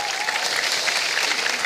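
An audience at an annual general meeting's opening ceremony gives sustained, lively applause after a drum performance, a full, even patter of many hands close by with no voices on top.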